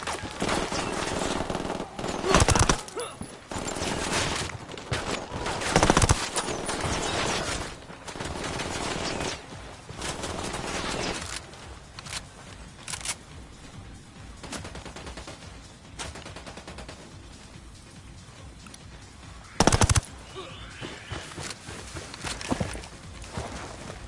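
Video game Wild Lands gunfire, bursts of rapid automatic shots and scattered single cracks, loud and close, with quieter rustling movement between volleys.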